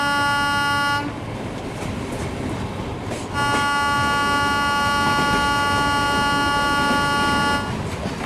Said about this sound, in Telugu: ఓకే ట్రైన్ అయితే ఇప్పుడు గ్రీన్ సిగ్నల్ వచ్చింది కాబట్టి మళ్ళీ ఒకసారి వెళ్దాం